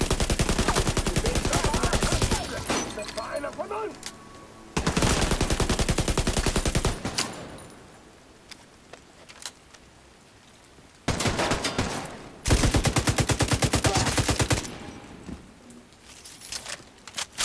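Automatic gunfire in the video game The Division 2 comes in loud, rapid bursts: a long stream of shots, then two more sustained volleys separated by quieter gaps.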